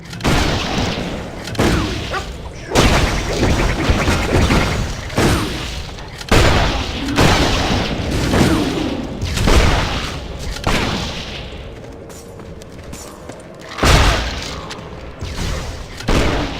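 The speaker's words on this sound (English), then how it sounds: "This shotgun is the absolute tops" A shotgun fires repeatedly in the action RPG Torchlight 2, with loud booming blasts at irregular intervals amid game combat noise.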